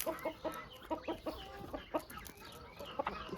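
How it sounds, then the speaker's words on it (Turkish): Close rooster clucking in quick, irregular bursts, low soft calls repeating over a few seconds with no other voices, during morning feeding on a farm. "Bu horoz"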